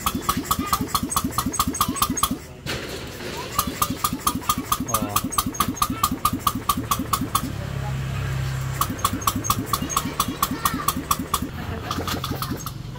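A Honda Click 150i motor scooter engine is cranked repeatedly in rapid, rhythmic bursts, pausing briefly before catching into a rough idle, then cranking again.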